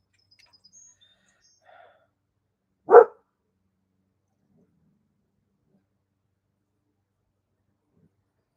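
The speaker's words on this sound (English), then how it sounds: "Enough of the barking." A single short, sharp dog bark sounds once in otherwise near silence, with a few faint chirps before it.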